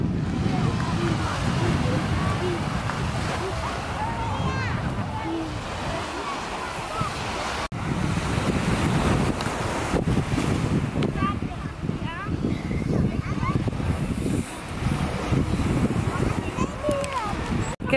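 Ocean waves wash steadily onto the beach at Cala Tarida, with wind gusting over them. Someone talks throughout.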